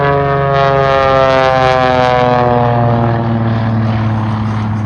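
A propeller airshow plane with a radial engine drones loudly and steadily as it climbs, its strong harmonic tone slowly dropping in pitch as it passes.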